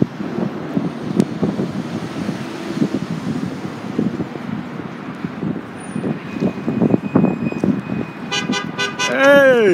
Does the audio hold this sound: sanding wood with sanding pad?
no